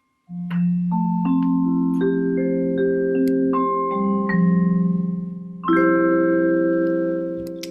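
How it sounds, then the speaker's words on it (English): Mallets strike a vibraphone in an ascending series of low ringing notes that sustain and overlap, followed by a final shimmering chord, close and clear. "So here's the sound of the vibraphone."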